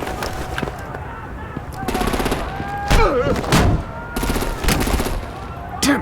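Gunfire and artillery in Batman The Enemy Within, Episode 2, with rattling machine-gun bursts, heavy booming blasts and sharp shots in quick succession, loud and close, while voices shout over the battle.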